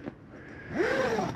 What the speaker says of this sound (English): undo all these zippers.